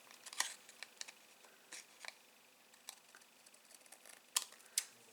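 Scissors trim excess paper from a handmade card, giving quiet, crisp snips and small ticks scattered irregularly over near-silence, with a couple of sharper cuts toward the end.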